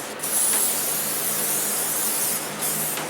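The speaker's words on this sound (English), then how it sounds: "I need to find another lubricant to spray on everything" Aerosol lubricant sprayed onto a Toro lawnmower, one continuous close, loud hiss lasting about three seconds with no talking.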